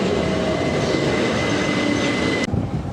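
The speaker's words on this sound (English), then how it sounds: "there's the station with a train arriving" A train pulls into a South London railway station on a service bound for London Bridge, its rumble and rail noise loud and steady throughout before cutting off abruptly near the end.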